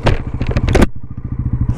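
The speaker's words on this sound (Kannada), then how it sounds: "ಎಕ್ಸಾಸ್ಟ್ನ ಸೌಂಡು ಈ ಥರ ಕೇಳಿಸುತ್ತೆ." Exhaust note of a 2024 Bajaj Pulsar NS400Z motorcycle, recorded near the pipe: a loud, rapid, pulsing idle burble, with a brief sharp blip of revs at the start before it settles into an even throb.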